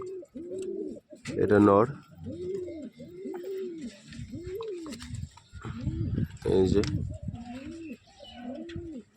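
Domestic Madras pigeons, including a male, give repeated soft, rising-and-falling coos in a steady run, close by, while someone talks over and between them.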